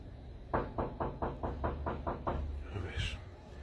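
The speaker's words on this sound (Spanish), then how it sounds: "están tocando la puerta" Eight evenly spaced knocks rap on a door, fairly loud and close, followed by a short pause and a faint bump.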